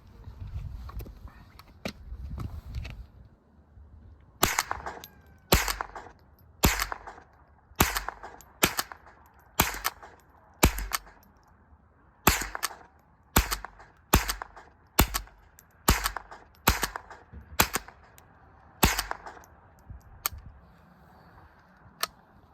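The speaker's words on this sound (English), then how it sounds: "We're just going to dump some rounds down range and just check it for reliability is all we're doing right now." Springfield 87A .22 rifle fired at an outdoor range, a long string of sharp, loud single shots in a steady, slightly irregular rhythm with brief pauses, close to the listener, following a few seconds of low rumbling handling noise.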